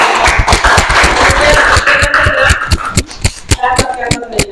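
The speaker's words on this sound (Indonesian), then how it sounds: "Tepuk tangan untuk penjelasan." A class claps in a loose, uneven rhythm, the sharp individual claps close and loud, fading into sparser claps near the end while voices talk underneath.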